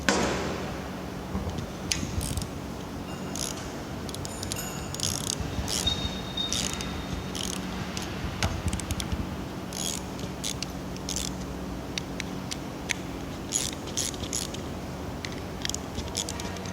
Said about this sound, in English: you'll just need that to kind of untighten it a little bit